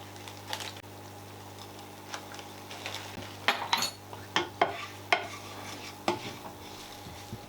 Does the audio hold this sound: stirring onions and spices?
yes